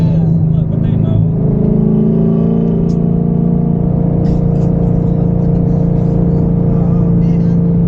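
A cammed Chevrolet C7 Corvette V8 drones steadily while cruising, its loud, lumpy engine note holding a constant low hum throughout, with voices talking over it in the cabin.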